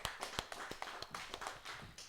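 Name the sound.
church congregation applauding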